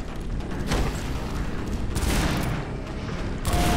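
Gunfire in the video game Entropy Zero 2, dense rapid shots in a sustained barrage with bursts overlapping, loud and close, no voices over it.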